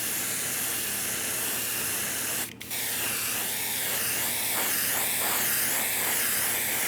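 A sealant coat is sprayed from an aerosol can onto a quarter-scale Spider-Man sculpture at a workbench, a close, loud continuous hiss with one brief pause followed by short repeated sweeping bursts.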